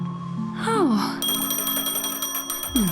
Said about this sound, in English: A phone. Wanna listen in?